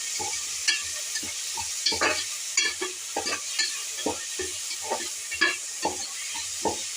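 Tomatoes being stirred into pulao in a pan: repeated scraping strokes of a spoon against the pan in an irregular rhythm over a soft, steady sizzle, close up with no talking.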